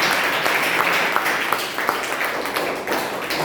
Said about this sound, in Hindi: सभी लोग जोरदार तालियां बजाएंगे।